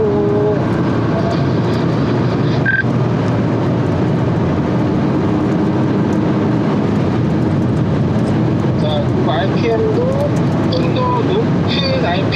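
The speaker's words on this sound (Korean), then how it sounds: "다시 한번 쭉 가속해 보겠습니다" A Hyundai Avante N accelerates hard on a high-speed test track, its engine and road noise forming a loud, steady roar heard from inside the car for the whole stretch.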